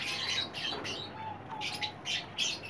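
A young pied cockatiel pair chirps in repeated bright, high tweets and short calls, fairly close and clear over a soft background hiss, with no talking.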